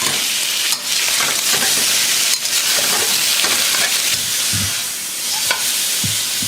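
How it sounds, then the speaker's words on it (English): Pork belly and ginger pieces sear in a hot pan with a loud, steady sizzle and crackle throughout, broken by occasional stirring scrapes. "So just give the pork belly a good sear."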